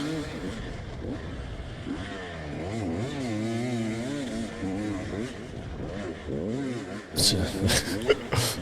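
A motocross bike rides a deep, sandy race track with a loud, wavering engine note that revs up and down continuously, close by, ending in a few sharp knocks.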